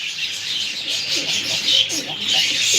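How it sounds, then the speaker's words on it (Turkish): Baska pigeons in a loft give a steady run of soft bird calls and chirps, close and fairly continuous, with faint talk in the background. "Yani bu kuş çok güzel bir kuş"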